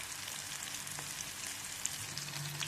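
Prawns frying in hot oil, a continuous close hiss and crackle of bubbling oil with occasional small pops, steady throughout with no talking.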